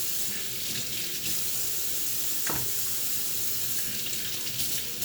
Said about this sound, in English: My focus is to get these potatoes rinsed off again.